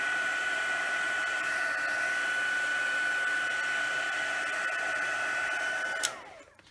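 Steady loud blowing roar with a whine from a heat tool aimed at the back of a craft card, running continuously for about six seconds and then switching off and winding down.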